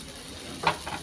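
Turmeric and spices sizzle and crackle in a hot pan for pickle-making, a soft steady frying hiss with a brief stir or scrape.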